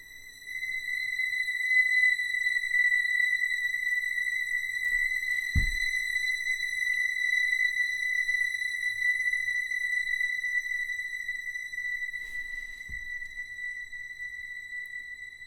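A steady, thin high-pitched tone with harmonic overtones, isolated from a London Overground train recording, holds for about fifteen seconds, faint and even, with a couple of soft low thumps.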